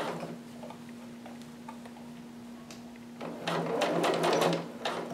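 Domestic sewing machine stitching dress fabric with a steady motor hum, then a louder, faster burst of rapid needle ticking near the end; close and alone, with no talk.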